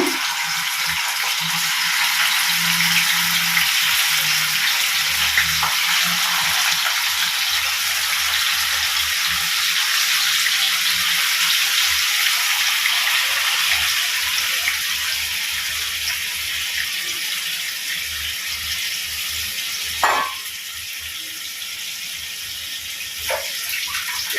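Marinated chicken coated in curd frying in ghee over a low flame for a coastal-style chicken ghee roast, a steady soft sizzle running throughout with a brief clatter near the end.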